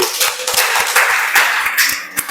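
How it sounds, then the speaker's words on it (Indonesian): Classroom of students clapping their hands together during a lesson, a dense, steady patter of many hands close by with no talk over it. "Tepuk tangan dulu untuk kita semuanya."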